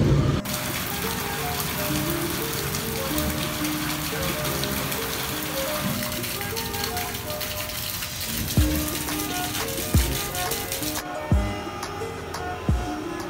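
Heavy rain pouring down outside a room, a steady dense hiss with rattling drops and occasional sharper splashes and knocks toward the end.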